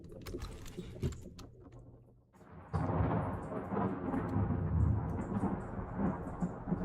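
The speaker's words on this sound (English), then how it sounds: "Storm's coming!" A thunderstorm aboard a ship in the video game Return of the Obra Dinn: scattered crackles and creaks give way to a sudden loud roll of thunder and heavy rain that continues steadily.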